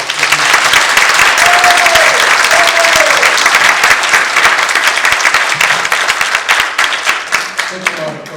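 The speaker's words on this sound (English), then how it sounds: "let's give a big round of applause" A large audience at a talk-style event claps in steady, dense applause that stays loud and continuous throughout, with a voice briefly heard over it near the start.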